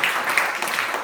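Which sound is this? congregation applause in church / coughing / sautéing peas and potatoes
congregation applause in church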